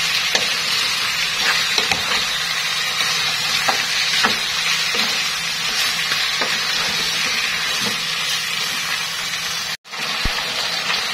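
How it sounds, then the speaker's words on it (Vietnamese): Duck meat stir-fries over high heat in a pan, giving a loud continuous sizzle with scattered stirring clatters and a brief drop near the end. "Để lửa lớn mình xào lên cho nó săn thịt, nó thơm lên."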